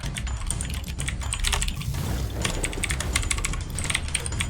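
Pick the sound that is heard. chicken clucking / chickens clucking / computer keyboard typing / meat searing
computer keyboard typing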